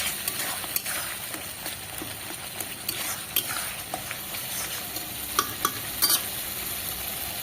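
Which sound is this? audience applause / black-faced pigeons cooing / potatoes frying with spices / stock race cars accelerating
potatoes frying with spices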